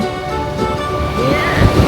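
Sea waves at Pattaya Beach make a loud, close, rushing wash that swells toward the end, with faint voices mixed into the surf.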